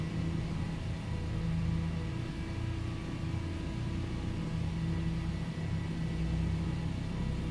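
The twin piston engines of a DC-3 in Microsoft Flight Simulator rumble steadily as power comes up, a constant low droning hum with a few tonal whines and no speech.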